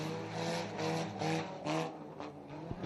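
Several 4-cylinder Bomber race cars roar off together at the start of a short-track heat race, engines revving in overlapping waves that rise and fall, loud and somewhat distant.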